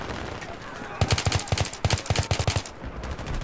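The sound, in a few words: gunfire in video game Battlefield 3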